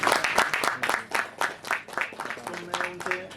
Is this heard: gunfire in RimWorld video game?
no